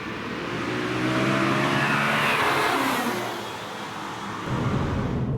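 A BMW M3 with an SMG automated manual gearbox revs hard and accelerates, its engine note loud and close, climbing steadily, easing briefly near the end, then surging again.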